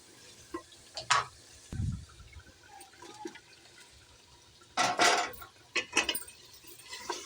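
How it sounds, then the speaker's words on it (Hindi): Potatoes fry with chicken in a pan, giving soft sizzling broken by several louder bursts of stirring and scraping with spoon and liquid splashes, some close and sharp. "अब हम आलू डालकर भून लेंगे।"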